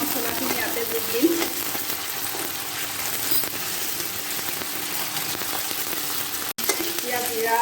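Ginger garlic paste frying in a pan with onions for a koldil masala gravy, giving a steady dense sizzle throughout with occasional stirring scrapes and a brief dropout near the end.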